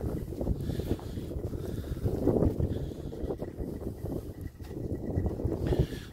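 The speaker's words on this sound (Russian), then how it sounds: "Ветер еще, надеюсь, вам не шумит сильно." Steady, blustery wind buffets the microphone outdoors, a continuous low rumbling roar that swells and eases without any talk.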